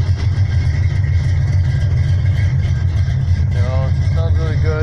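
An Oldsmobile 350 V8 from a 1968 block, fitted with FiTech fuel injection and a Mandello cam, idles with a deep, steady, lumpy rumble close by, a voice briefly heard over it near the end.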